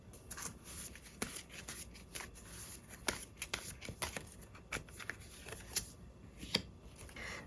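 Tarot cards being shuffled and drawn, a steady run of soft riffling clicks and flicks at close range with no talk.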